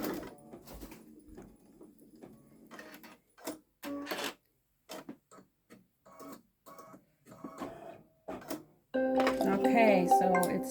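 A Babylock Solaris Vision embroidery machine sewing long stitches on a small quilt; bursts of rapid mechanical stitching stop and start among quiet gaps, then a louder steady whirring run at the end.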